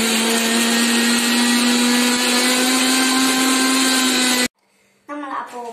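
A mixer grinder blending pomegranate for a milkshake runs as a loud, steady motor whine for about four seconds, then cuts off abruptly, leaving near silence before faint sounds return.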